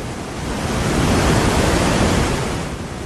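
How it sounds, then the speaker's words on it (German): Water roaring through the Zammer Lochputz gorge, a dense, steady rushing wash of up to 2000 liters per second, loud and continuous with no voices. "Durch die Klamm schießen bis zu 2000 Liter"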